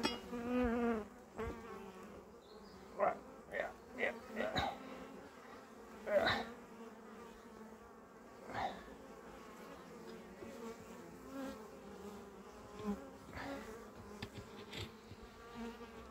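Bees at a beehive make a soft, continuous buzz. Individual insects drone louder as they pass close, then fade back into the quiet hum.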